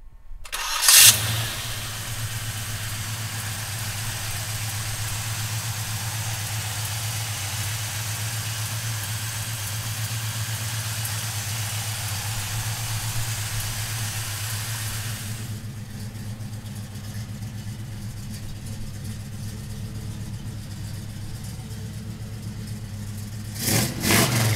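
A 1967 Chevrolet Chevelle cranks and fires up, then settles into a steady, loud idle for a long stretch, its tone shifting partway through, before a brief blip of revving near the end.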